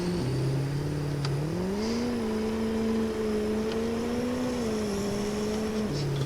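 A car cruising along a road in Farming Simulator 22, its engine a steady, close drone that rises and falls gently with throttle changes and never stops, with no voices over it.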